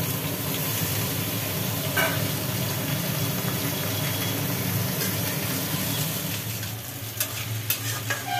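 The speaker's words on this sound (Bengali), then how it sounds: "ডাঁটা আলুগুলো একটু ভাজি ভাজি চলছে" Potatoes and drumstick pieces fry in a pan, giving a continuous, close sizzle with stirring scrapes and a few sharper clinks toward the end.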